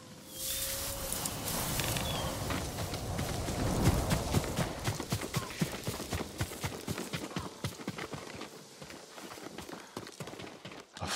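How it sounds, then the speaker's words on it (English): Horse hooves clop along in Ghost of Tsushima as a farm horse walks, a steady rhythm of close, distinct hoofbeats over a soft outdoor ambience, with no talking. "A farm horse. Never seen battle."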